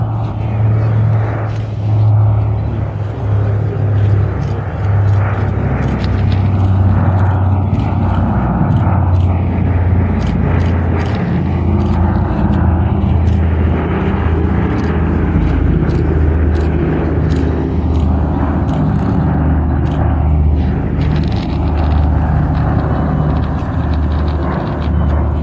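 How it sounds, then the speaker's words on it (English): The Consolidated B-24 Liberator bomber Diamond Lil flies past at a World War II airshow, its piston engines making a loud, steady drone that holds for the whole stretch and shifts only slightly as it passes. "here comes Diamond Lil, the consolidated B-24 Liberator"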